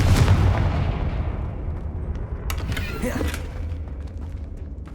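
Confringo fire spell blasts in the Hogwarts Legacy video game, with a loud booming explosion at the start that rolls off into a rumbling, crackling tail and a few sharp cracks. No voice is heard.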